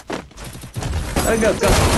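Bursts of Free Fire gunfire, loud and close, with shouting voices over and between the shots.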